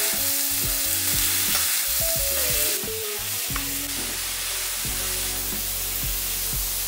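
Chicken thighs fry in a pan with browned onions and garlic, a loud constant sizzle with a steady hiss throughout, while tonal background music plays over it and no one speaks.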